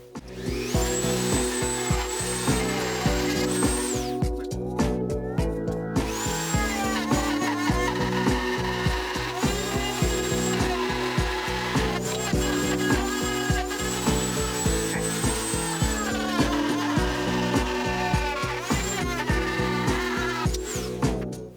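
A drill whines loudly and steadily, rising and dropping in pitch over repeated passes as it bores through a wood block for a lamp base, with a rhythmic mechanical clatter throughout.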